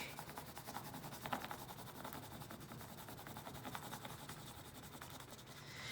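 Crayon or colored pencil rubbing back and forth on paper laid over a leaf texture plate, a steady close scratchy friction with fast repeating strokes.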